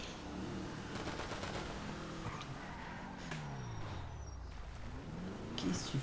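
Gunfire in the video game GTA V, with bursts of rapid shots over game engine and vehicle noise, while players talk throughout.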